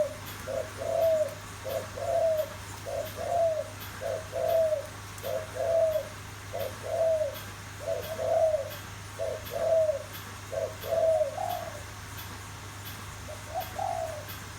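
Wild forest birds in the Dong Phaya Yen mountains call with a repeated, evenly spaced cooing phrase, about a dozen rounds in a row, clear against a low steady hum.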